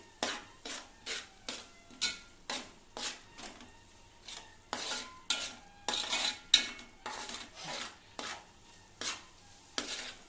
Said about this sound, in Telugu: ఇప్పుడు అంతా వేసిన తర్వాత జాగ్రత్తగా అంతా తిప్పుకోవాలి.